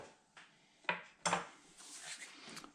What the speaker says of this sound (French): j'envoie mes deux morceaux de beurre